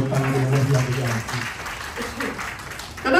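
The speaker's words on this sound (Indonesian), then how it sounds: "Beri tepuk tangan yang meriah." A burst of applause from a church congregation beneath a preacher's speaking voice, swelling and then fading before picking up again at the end.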